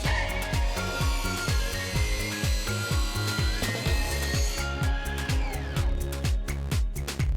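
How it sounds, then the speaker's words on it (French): A miter saw cuts through waterproof laminate flooring boards, its motor whining steadily under a rapid, regular rasping pulse as the blade bites. The tone shifts near the end of the cut. "Vous pouvez ensuite les couper ensemble à la même longueur à l'aide de la scie à onglet."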